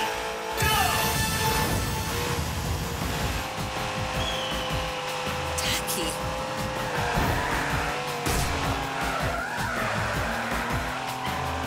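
Race cars roar through a round of the video game Hotshot Racing, engines revving and shifting with tire squeals and skids over a busy, loud mix of game effects.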